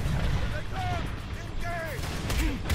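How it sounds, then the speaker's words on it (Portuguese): A missile explodes in the war-zone stage of the fighting game Dead or Alive 5 Last Round, a loud, sustained rumbling blast with someone talking over it. "Olha o míssil, olha o míssil."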